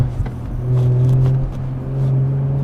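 An Audi RS5 accelerates to overtake another car, its engine giving a steady low rumble that swells slightly, heard from inside the car without speech.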